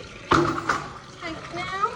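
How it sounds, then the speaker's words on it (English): Water pours from a tank onto a horse's hay net in a stable yard, a sudden splash followed by a second gush and a softer trickle, close by, with faint voices in the background. "I'm going to get Rebel's hay net wet."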